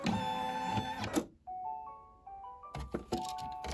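An embroidery machine finishes sewing a puffy-foam coaster: a mechanical whir and clunks give way to a short sequence of soft electronic beeps forming a completion tone, then further clattering movement.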